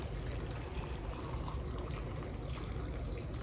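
Water poured into a plant container filled with leca clay pebbles, a continuous close trickling pour with a soft hiss, steady throughout with no talk.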